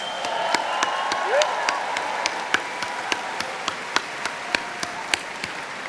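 An audience at a university commencement ceremony gives a steady round of applause, a dense wash of clapping with sharp individual claps from close by ringing out at regular intervals as it tapers.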